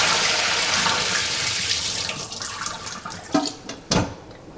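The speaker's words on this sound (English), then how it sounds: "You're just gonna fill your bowl with water, and then you're gonna agitate your kale in there a little bit." Leafy kale is swished in a bowl filled with water, a busy wet sloshing and running-water wash that eases off, then two short splashy bursts near the end, close up and without speech.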